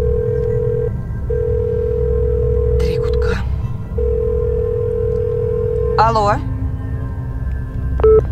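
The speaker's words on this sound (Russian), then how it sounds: "Всегда, когда набираю этот номер 666, мне жутковато." A telephone dial tone sounds in steady, broken stretches before a short burst of dialing tones calls the number 666, followed by a brief warbling signal and a faint beep at the end.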